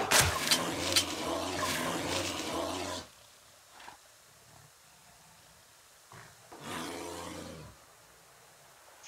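A bear roars in the survival video game Subsistence: one long, loud, growling roar lasting about three seconds, a brief quiet, then a second, shorter roar.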